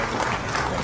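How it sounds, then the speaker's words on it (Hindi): Dense, steady applause from a large crowd filling an indoor hall after the Aditya L1 solar mission launch, continuous and loud for the whole moment. "पूरा हॉल तालियों की गड़गड़ाहट से गूंज"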